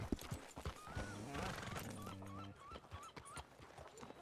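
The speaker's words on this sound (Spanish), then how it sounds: "Caballos salvajes especiales." Wild horses in Red Dead Redemption 2 give a drawn-out whinny with wavering pitch, then several short nickers, over scattered hoof clops and thuds. The sounds are soft and moderately close.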